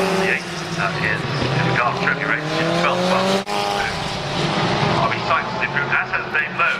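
A historic Formula Ford race car spins during qualifying at Brands Hatch, with its engine droning and shifting pitch through the slide while a commentator talks over it throughout.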